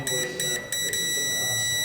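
Quick electronic beeps pulse in a rapid repeating pattern from a car's rear parking sensor, with a steady high tone and some background noise beneath.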